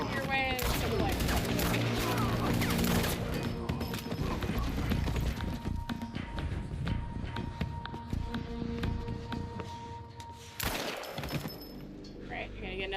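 Gunfire from a Quantum Break firefight: rapid, dense bursts of shots in the first half, thinning to sporadic cracks and clatter afterward, with faint speech underneath.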